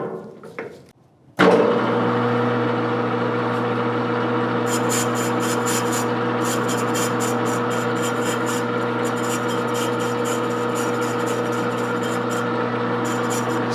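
Jet-16 milling machine cutting the outside edge of a spindle pulley: after a short clunk the machine starts into a steady loud motor hum, with repeated high chattering bursts of cutting noise pulsing over it.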